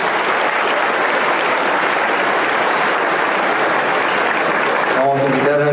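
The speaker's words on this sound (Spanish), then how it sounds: "Muy fuerte las palmas." An audience at an engineering conference gives loud, sustained applause that fills the hall from start to finish, with a voice starting to speak just as the clapping continues at the end.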